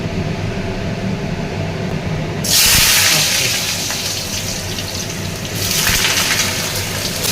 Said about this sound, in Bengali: দেখো, গরম হয়ে গেছে আর এরপর আমি আলুগুলোকে ছেড়ে দেবো।